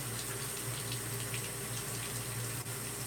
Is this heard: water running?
yes